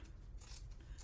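Scissors trimming a fabric gusset for a sewn packing cube, a quiet, steady mechanical snipping and rasping close by with no voices.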